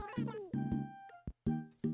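A video game cat meowing, a few short close meows in quick succession with brief pauses between them.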